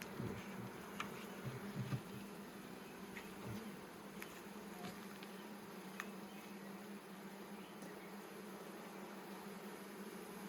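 Bees buzzing steadily around a hive as they are moved into a newly restored hive, a faint continuous hum with occasional louder passes of individual insects close by.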